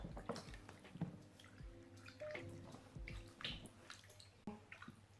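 Feet being washed by hand in a basin of warm water, with soft splashing, dripping and sloshing close by, quiet and intermittent.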